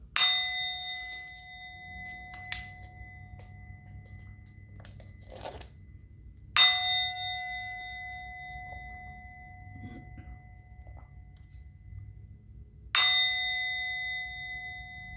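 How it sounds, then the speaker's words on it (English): A bell is struck three times, each strike giving a bright, ringing clang that decays slowly over several seconds, with soft handling noises in between and no talking. "I'm going to ring the bell."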